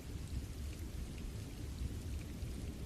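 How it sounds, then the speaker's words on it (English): Rain falling outside a window, a constant close hiss of drops with a deep rumbling undertone, unbroken and free of speech. "Outside the window, rain continues to fall."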